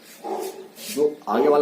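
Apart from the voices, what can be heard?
dog barking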